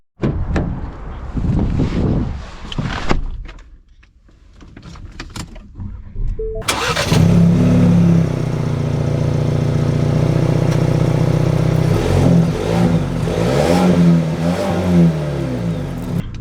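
A 2024 Ford Ranger XLT pickup cranks and its engine catches with a sudden loud rise, then settles into a steady idle-to-driving hum that carries on evenly; earlier, a few short knocks and rustles sound in a quiet cabin before startup.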